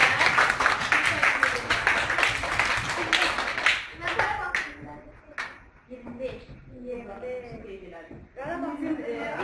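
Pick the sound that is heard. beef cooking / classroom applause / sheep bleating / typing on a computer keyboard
classroom applause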